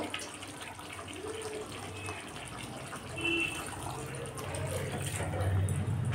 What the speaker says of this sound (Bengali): বাটিটা ধুয়ে সামান্য জল আমি এতে দিয়ে দেব।